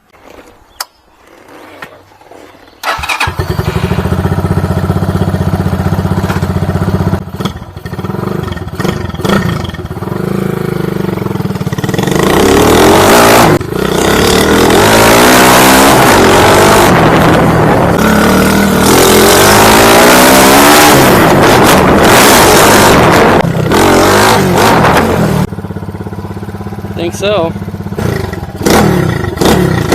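CG250 motorcycle with a Kipa 28mm flat slide carburetor, starting after a quiet moment, then a loud, close engine idling and repeatedly revving hard for most of the stretch, with brief talk.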